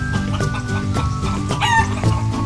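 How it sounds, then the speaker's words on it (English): Roosters crow while chickens cluck continuously, a dense, close chorus of farm fowl with a rising crow near the middle and no talk. "More roosters."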